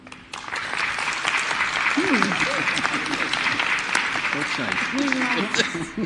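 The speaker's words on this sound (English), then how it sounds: "Please clap." Audience applause at a conference session on HIV and sustainable development, sustained clapping from a crowd with scattered voices and murmurs mixed in underneath, fairly loud and steady.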